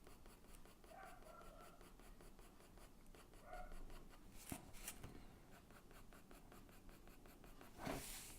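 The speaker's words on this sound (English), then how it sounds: "So I'm going to come back to my 2H pencil now. And again, I'm just going to start bringing it out, layering on top of each other. Very, very soft strokes." Soft, light strokes of a 2H pencil on drawing paper, a quiet, steady scratchy rustle layered over and over, close up, with a few slightly louder scrapes and no talking.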